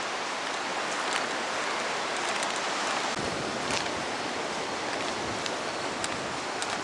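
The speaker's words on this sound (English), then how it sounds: "I don't know that I have any way of keeping rain off the lens" Steady, dense rain hiss at Cape Lookout during Ophelia, with no letup, close by, with occasional sharper taps of drops hitting nearby.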